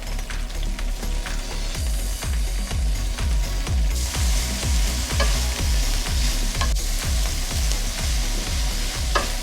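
Kale and garlic sauté in olive oil in a pan, a loud steady sizzle close by with repeated rhythmic stirring scrapes throughout.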